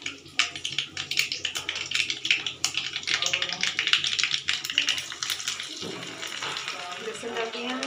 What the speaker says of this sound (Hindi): इसमें हम लहसुन डाल देंगे